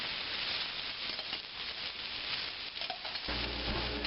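Peppers sizzling in a pan with caramelized onions for chicken fajitas, a faint steady frying hiss with light stirring clatter, shifting to a lower rumble in the last second.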